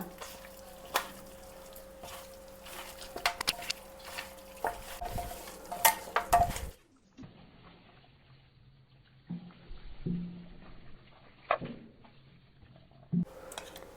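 A spoon stirs and mixes a ground garlic paste with rice flour in a bowl, giving soft scraping and squishing with scattered light clinks against the vessel, close and quiet, then a quieter stretch of slower strokes.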